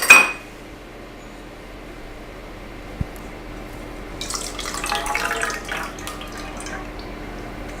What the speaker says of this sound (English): can you add the milk and the vegetable oil now?